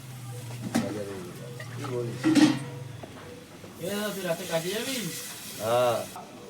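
Potatoes and curry for an egg curry sizzle and fry in a pan over a wood fire, a steady frying hiss with stirring scrapes, while a person talks over it throughout.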